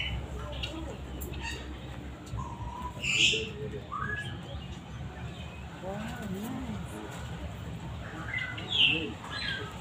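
Birdsong and chirping calls from a Kenyan bird park, including pigeons and pheasants such as the golden pheasant, heard at moderate distance over steady background noise, with people talking intermittently.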